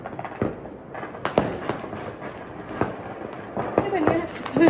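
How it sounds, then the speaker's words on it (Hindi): A firework fountain crackles and pops in scattered bursts at Diwali while people talk and exclaim nearby, the sputtering growing busier toward the end. "फाइनली अर्जुन का अनार जला।"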